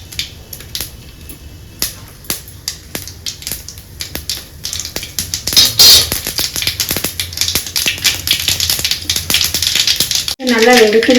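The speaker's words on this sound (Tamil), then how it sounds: "நல்லா வெடிக்கிட்டு பாருங்க, பொரிஞ்சிருச்சு." Mustard seeds crackle and pop in hot oil, a dense run of sharp sizzling bursts growing busier, with a voice talking near the end.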